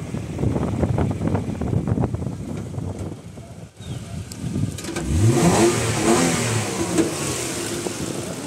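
A 2013 Kia Carnival's V6 engine catches and revs at close range, rising and falling in pitch over a steady background roar with some wind noise on the microphone.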